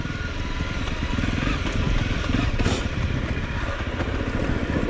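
A motorcycle ridden straight and upright on a road in Vietnam, its engine droning steadily and fairly loud, with broadband road and wind rumble throughout and no talk.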